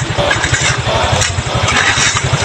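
A borrowed motorcycle engine runs steadily up close, its rapid low pulsing chugging continuously with slight rises and falls in intensity.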